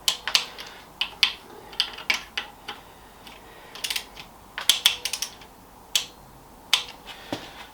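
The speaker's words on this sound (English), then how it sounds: "Right, let's torque that up." Ratcheting clicks from a torque wrench tightening a small bolt into an aluminium bicycle part, coming in short irregular bursts of sharp, close, quiet ticks with no talking.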